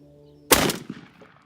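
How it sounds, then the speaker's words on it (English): A single loud shotgun blast from a Remington during a turkey hunt, sharp and close, followed by a fading outdoor echo and quiet after. "And we're gonna take our first shot."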